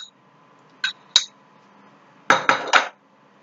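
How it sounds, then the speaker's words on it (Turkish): A spoon clinks against a bowl while mashing a yogurt mixture, with two separate taps followed by a quick cluster of three scraping knocks, bright and close in a quiet kitchen. "Tekrar iyice ezelim."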